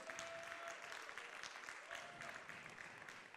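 A crowd claps steadily throughout at a startup contest final, a dense even patter of applause heard from some distance, fairly faint.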